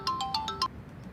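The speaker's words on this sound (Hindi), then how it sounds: "फिर आ गया इसका फोन" A phone ringtone plays an incoming call as five quick, bright electronic beeps in a steady rhythm, close and clear, then stops, leaving a quiet room.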